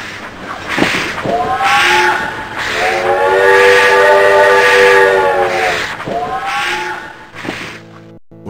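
A cartoon train whistle, the Chattanooga choo-choo, sounds loud and close in long harmonic blasts, one sustained through the middle, with rumbling rail noise beneath and no talk.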